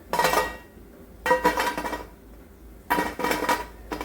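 Crisp, layered deep-fried maida shankarpali sweets clatter and crunch as they are handled. The sound comes in three short, close bursts of dry, brittle rattling separated by quiet pauses.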